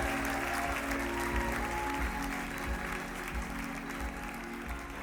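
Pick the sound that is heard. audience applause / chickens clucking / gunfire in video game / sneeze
audience applause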